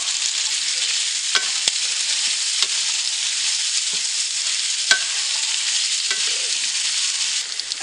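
Mushrooms, prosciutto and garlic sauté in a pan with a loud, steady, bright sizzle, broken by occasional sharp clicks and scrapes of a utensil.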